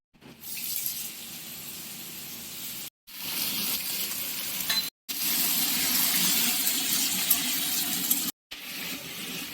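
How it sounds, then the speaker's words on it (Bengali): Panch phoron and ginger fry in hot oil for a fish curry, giving a loud, steady hiss with a few brief cut-off gaps in between. "আদা তেলে ফোড়ন দিয়ে মশলাটা তাকে তৈরি করে নেওয়া হচ্ছে"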